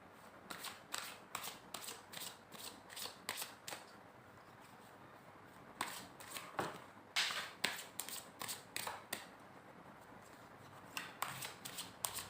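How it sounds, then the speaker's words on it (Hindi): Tarot cards riffle and slap in repeated quick bursts during a shuffle and draw, crisp and close, with short pauses between flurries and no talking. "कुछ कार्ड्स और निकालेंगे"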